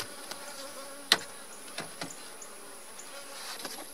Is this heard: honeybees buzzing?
yes